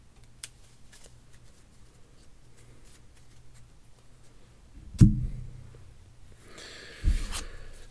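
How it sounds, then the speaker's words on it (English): Sleeved playing cards are shuffled at a table during a Marvel Champions card game. Near the end, a brief, quiet, slippery riffle comes with a couple of soft thumps, after a mostly hushed stretch. "Sleeved cards are so slippy. Give it a quick, as blind to me as I can,"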